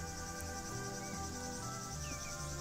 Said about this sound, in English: Okay, so I'm now being followed by bees.